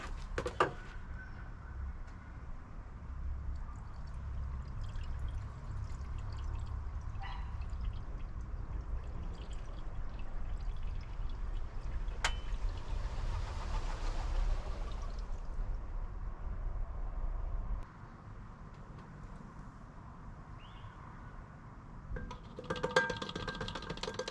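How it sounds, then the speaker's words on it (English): Engine oil pours in a steady low gurgle into a BMW F06 640d diesel engine for about eighteen seconds, then stops, leaving quieter handling noises and a brief clatter at the end. "Just leave this here and slowly pour that into the engine."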